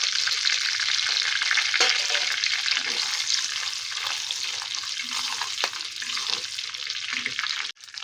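Bay leaf, cloves, cardamom and cinnamon sticks fry in hot oil for a Bengali prawn malai curry, giving a steady close sizzle with a few faint scrapes and no talking.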